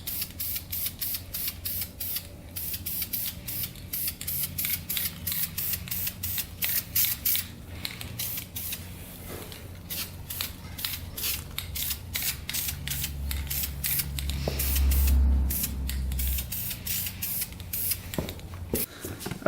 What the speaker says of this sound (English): Let's paint her up using some VHT flame proof just to protect that